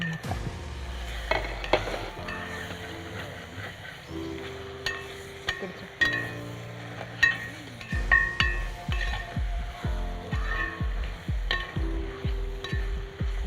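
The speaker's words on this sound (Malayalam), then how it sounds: "ഇതിലേക്ക് കുരുമുളക് പൊടിയും കൂടെ ചേർത്ത് നന്നായിട്ട് ഇളക്കി കൊടുത്ത് ഡ്രൈ ആക്കി എടുത്തു" Kerala-style prawn roast with pepper powder stirred in a pan, a steady run of close spatula scrapes and metallic knocks over a soft sizzle, growing busier and more rhythmic toward the end, with no talk.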